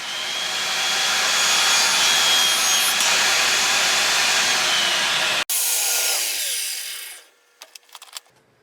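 A saw makes a 45-degree cut through a segmented wooden pen blank held on a sled. The cut is a loud, steady whine for about seven seconds, then it winds down, followed by a few faint clicks.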